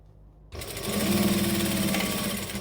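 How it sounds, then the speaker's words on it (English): Sewing machine top stitching across fabric: after a brief quiet start, a steady, close, continuous motor hum and rapid needle rhythm runs for about two seconds without any voices. "I'm just going to top stitch across"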